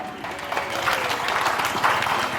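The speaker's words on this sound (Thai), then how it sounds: "ขอเสียงปรบมือให้ด้วยนะครับ" An audience claps at a female black buffalo contest for milk-tooth class cattle, a steady dense wash of applause from a crowd, moderately loud and continuous, with a faint voice mixed in.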